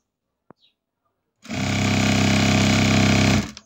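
An electric sewing machine stitches blouse fabric pieces together: a single sharp click, then a close, loud, steady whirring run of about two seconds that stops abruptly.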